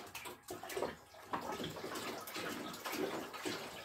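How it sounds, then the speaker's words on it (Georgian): Water pours continuously into bottles, a steady close splashing and gurgling flow that shifts slightly as the vessels fill. "გავავსოთ წყალი ერთად."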